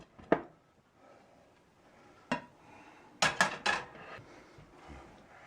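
An apple cake pie being flipped over in a pan: a few sharp clattering knocks of pan and utensil, one early, another mid-way, then a quick cluster of bangs, over a quiet background.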